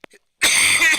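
A person with a nasty head cold or flu gives a brief throat-clearing grunt, then after a pause breaks into one loud, harsh, close cough.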